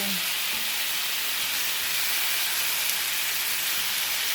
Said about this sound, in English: I love frying meat.